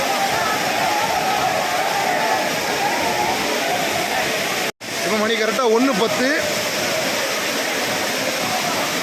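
The Courtallam waterfalls pour down in a continuous, loud hiss and roar of falling water, while someone speaks over it for much of the time.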